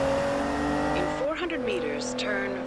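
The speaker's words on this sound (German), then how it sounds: "nur dieses Durchgedrehe hier, wenn der nicht gerade auf Asphalt fährt" A car in Forza Horizon 2 spins its wheels off asphalt, tires squealing with a rising, wavering whine over a steady engine drone, loud and close, with someone talking over it.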